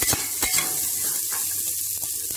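Green peas sizzle steadily as they fry in olive oil in a pan, with a couple of sharp scrapes and knocks from stirring near the start, heard up close with no talk.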